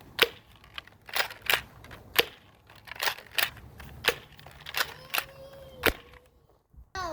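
A thrifted Nerf Accurival Vision blaster with feed issues is repeatedly primed and fired indoors, giving a series of sharp, close snapping clicks and springy clacks spaced roughly half a second apart, with a faint mechanical whir near the end.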